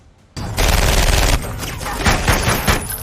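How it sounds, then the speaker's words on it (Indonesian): Intense gunfire from a film shootout, a sudden dense burst of rapid shots that keeps rattling and pounding loudly for the whole short stretch, with no voices. "Aksi saling baku tembak pun berlangsung dengan sengitnya."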